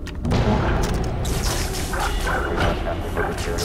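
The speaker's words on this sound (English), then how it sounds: "Oh, it's his dog. Hello, doggy." A dog in the shooter game Far Cry 3: Blood Dragon barks and yips in a few quick bursts, loud and close amid gunfire-like booms and game noise, with a player talking over it.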